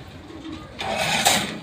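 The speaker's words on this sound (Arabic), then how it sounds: "الحمام اللي احنا بنفرجكم عليه ده كله استيرادات مش مصري" Imported German pigeons cooing in a loft, soft low calls that swell into a louder, fuller stretch in the second half, with no talking.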